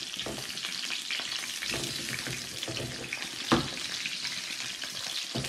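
Tomatoes and onion fry together in a pan for a table salsa, making a continuous crackling sizzle with scraping stirs and one sharper knock partway through.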